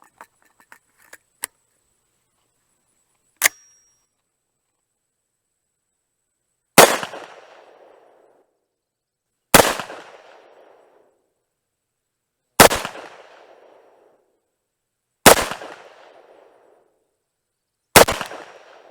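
A Tommybuilt T7 firearm firing 4.6 ammo gives five loud, sharp gunshots spaced about three seconds apart, each with a short decaying echo. A few faint clicks and handling noises come before the shots.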